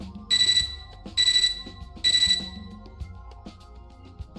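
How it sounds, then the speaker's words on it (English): A computer terminal in the video game Fate/Extra beeps three times in an even rhythm, bright electronic tones standing out over a soft game music background. "I'm starting to startle out of my silent contemplation by a beeping from my computer terminal."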